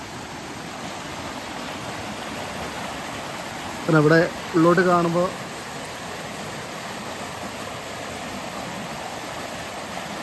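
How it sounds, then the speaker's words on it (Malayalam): A small forest stream near hidden waterfalls flows with a steady, close, broadband rush throughout, while someone briefly speaks over the water midway. "ചെറിയ തോട് പോലെ തന്നെയാണ് ഉള്ളത് ഇവിടെ."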